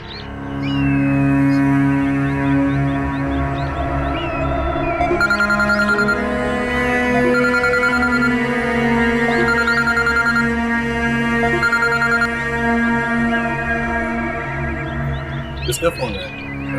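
A phone rings in a home during tea between family members, its steady electronic ringtone repeating through the whole moment while soft conversation continues underneath.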